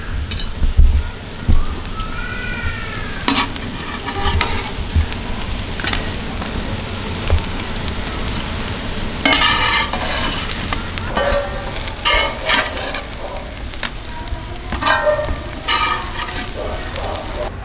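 Egg potato kababs fry in hot oil with a continuous close, loud crackle and sizzle, broken by occasional clinks and stirring scrapes.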